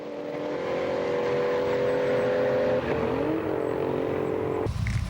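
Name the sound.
Japanese drag racing cars making quick passes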